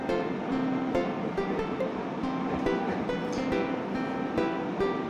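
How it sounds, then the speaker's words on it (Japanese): A commuter train rolls along the tracks, with a steady rumbling ride and periodic sharp clacks of wheels over rail joints. "ガタンゴトンとね、 走るんですけど。"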